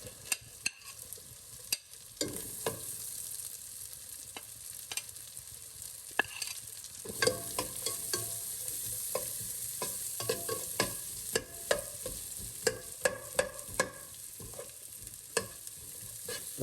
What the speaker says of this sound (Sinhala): දැන් මේකේ ඉංග්‍රීසි සුදු ලුණු ටික ඔක්කොම රන්වන් පාට වෙගෙන බැදිනකොට